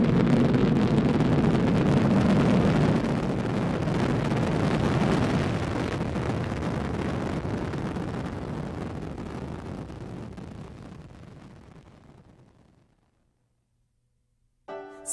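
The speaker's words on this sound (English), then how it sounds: "We have booster ignition and liftoff of Columbia." The Space Shuttle Columbia's boosters ignite at liftoff with a huge broadband roar that rumbles at full strength, then slowly fades over about twelve seconds into near silence.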